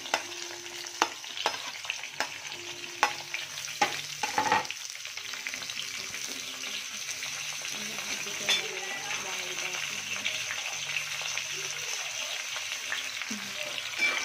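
Raw mango pieces frying in oil with cumin and mustard seeds for a sweet-sour pickle: a few sharp clinks and stirring knocks at first, then a continuous close crackling sizzle, with faint background voices.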